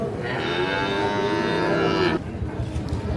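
A single long, steady moo comes from a four-month-old Sahiwal bull calf at a cattle market. The call stops abruptly, and busy crowd murmur continues beneath and after it.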